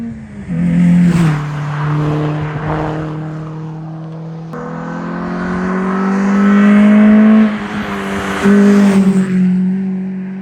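Peugeot 206 GTI engine heard from inside while driving, a loud steady drone that rises and falls with gear changes and throttle, holding a strong low hum throughout with no talking.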